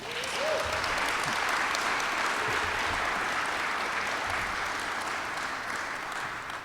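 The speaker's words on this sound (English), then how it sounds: "That's a good place to clap." Applause from the audience at a press conference on Toledo's Junction neighborhood, a thick, even spell of many hands clapping that holds strong for several seconds, with a brief voice or whoop near the start.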